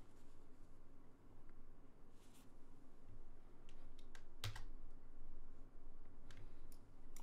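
Computer keyboard keys are pressed in scattered clicks and short bursts, faint and close over a low background hum, during After Effects editing work.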